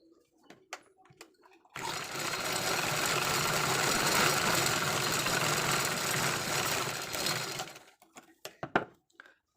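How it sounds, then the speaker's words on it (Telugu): Sewing machine stitching pieces of old denim jeans together, one long continuous whirring run of about six seconds, close and loud, framed by small handling clicks and taps of fabric before and after. "ఇప్పుడు దీన్ని జాయింట్ ఇలా కలిపేసుకోవాలి స్టిచ్ చేసుకోవాలి"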